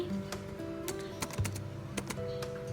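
Someone types code on a computer keyboard, with quick, close, irregular key clicks and occasional heavier taps over a faint steady hum. No one speaks.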